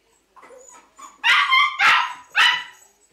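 A dog gives a few soft whimpers and yips, then lets out three loud, close barks in quick succession.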